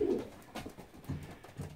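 Pigeons in a breeding loft coo in a low, soft rhythm, three or four muffled throaty calls close by with no talk over them.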